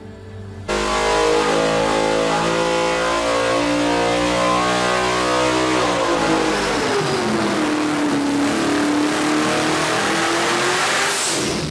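A supercar's 6.6-liter twin-turbo V8 roars loudly, holding a high rev, then dropping and sweeping back up, close and sustained with no talking.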